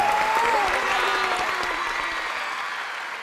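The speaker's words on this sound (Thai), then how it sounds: "เสียงปรบมือดังๆครับ" Loud audience applause fills the hall at the finale of a Thai startup competition show, a dense steady clapping that fades slightly toward the end, with a faint tone and murmur beneath.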